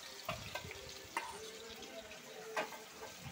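Mustard and poppy seed paste goes into a frying pan with fish, giving a soft, faint sizzle broken by a few quick spoon clicks and scrapes.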